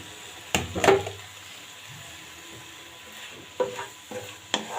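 Fish and eggplant cook in a pan, with a few sharp utensil scrapes and clatters of stirring over a faint, low sizzle.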